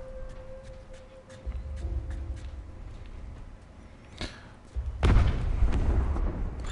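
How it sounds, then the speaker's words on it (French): Explosions in The Last of Us Remastered boom out as scattered deep thuds, with a heavier blast near the end over a rumbling game soundscape. "Il y a des explosions partout."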